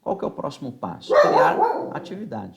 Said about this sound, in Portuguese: Desculpa pelo cachorro aqui, o cachorro está latindo